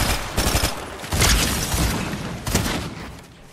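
Fortnite gunfire cracks in close, loud bursts, with clusters of shots near the start and a heavier volley about two and a half seconds in. The shots come amid booming game ambience, with no speech.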